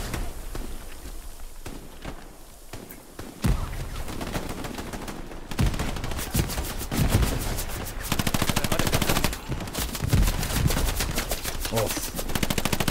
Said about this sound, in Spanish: Me disparan desde frente